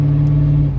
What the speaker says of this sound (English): it's making a really bad noise, as is the car, because it's just straight piped